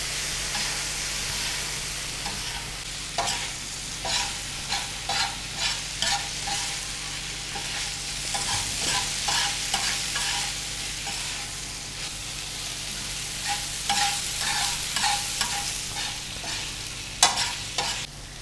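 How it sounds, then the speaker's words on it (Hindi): Chicken liver fries on a tawa with a constant close sizzle, broken by regular rhythmic scrapes and turns of a spatula across the hot iron, loud and steady with no talk. "कलेजी को भूनते हुए यहाँ से 3 से 4 मिनट हो चुके हैं।"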